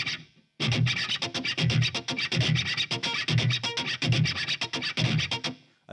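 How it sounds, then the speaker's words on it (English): An electric guitar run through a noise gate and effects is struck and scratched rather than played, giving a fast, rhythmic run of harsh scratchy hits that cut off abruptly at the start and end. "I'm really not playing guitar anymore. I'm just hitting it."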